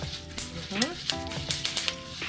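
Egusi (ground melon seeds) frying and sizzling in a pan on the stove, a steady close crackle with stirring clatter and brief voice-like tones over it.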